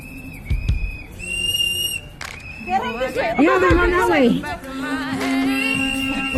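Several shrill whistles blown in short and sustained blasts amid agitated shouting voices on a Minneapolis street, loud and close.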